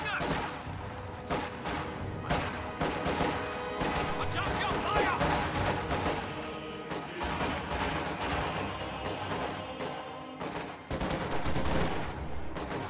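Rapid gunfire from Grenadier squads rolls on through a chaotic real-time strategy battle, dense volleys and crackling shots layered with distant thuds and crashes, steady and loud throughout the skirmish.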